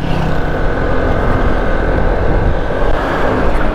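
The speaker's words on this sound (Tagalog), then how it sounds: "Ayan, may dumadaan ng mga sasakyan." Passing cars heard through a motorcycle helmet mic with the visor open, a loud broadband roar of traffic mixed with heavy wind rush, steady and close.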